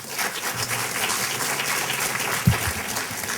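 Steady applause from an audience at a political meet-and-greet event in Virginia, a dense broadband patter of many hands filling the room, with one brief low thump partway through.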